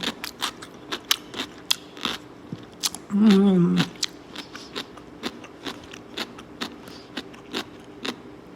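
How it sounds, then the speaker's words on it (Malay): Close, crisp crunching bites of pickled Korean radish repeat in a steady rhythm, broken once by a brief hummed voice, then the crunchy chewing continues. "Dengar kan saya duk kunyah kan."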